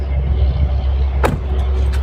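A car door shuts once with a short, sharp thud midway, heard from inside over a low steady engine rumble.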